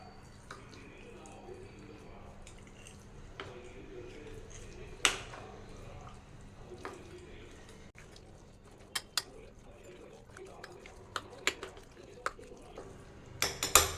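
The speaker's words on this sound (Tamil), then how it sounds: "ஒரு அரை டம்ளர் தண்ணி சேர்த்தி கலந்துக்கலாம்" A spoon scrapes and clinks against a vessel while soya chunk batter with coriander leaves and water is stirred, the knocks sparse early and growing sharper and more frequent toward the end, close and otherwise quiet.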